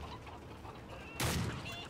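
Chickens cluck in the Modern Warfare 3 video game, faint clucking under steady game ambience, then a sudden burst of noise, like gunfire, near the end.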